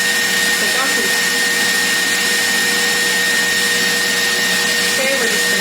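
An electric mixer whisks heavy cream for a rich chocolate mousse, a steady, loud, close whirring drone with a constant high hum that runs without pause, no one speaking over it.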